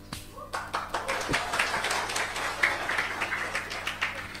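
An audience claps steadily through a spoken religious talk, a dense rhythmic run of many hands that starts abruptly and holds at an even, moderately loud level.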